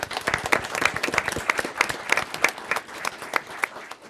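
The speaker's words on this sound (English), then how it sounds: "All right, round of applause for those." Meeting audience at a county board of commissioners session claps for recognised employees, a brief round of fairly sparse, distinct hand claps from a modest crowd.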